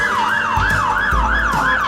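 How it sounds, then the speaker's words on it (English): Wailing fire engine siren from a toy fire truck, a loud rising and falling tone sweeping in regular cycles close by, with low thumps beneath. "Siren"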